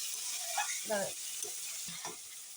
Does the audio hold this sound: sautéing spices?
yes